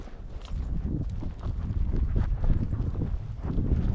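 Steady wind buffets the microphone outdoors on open flats while cattle are trailed, a constant low rumbling roar with gusty fluctuations and occasional faint thumps, no voices.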